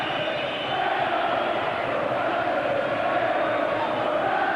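Football crowd at Bramall Lane during a Sheffield United v Middlesbrough Division One match in 1997-98, a broad steady roar of many voices that swells slightly, with a commentator talking over it.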